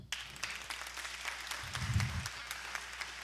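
Congregation applauding during a sermon at a Christian carnival gathering, moderate clapping held steady for about three seconds, with a low rumble swelling briefly in the middle.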